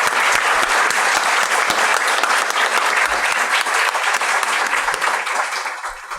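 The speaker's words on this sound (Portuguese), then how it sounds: "convocá-los a todos a uma calorosa salva de palmas para os nossos conferencistas pela brilhante participação deles" Warm, sustained applause fills a conference hall for the panel speakers, a thick, even wash of many hands clapping that holds steady before easing slightly at the close.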